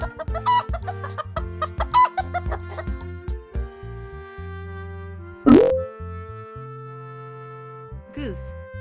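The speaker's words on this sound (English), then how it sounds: "Chicken." A chicken clucks in a short rhythmic burst within a children's animal-sounds learning game, set over a busy backing tune with cartoon boing and plop effects; a spoken label is heard too.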